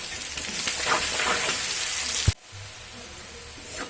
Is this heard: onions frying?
yes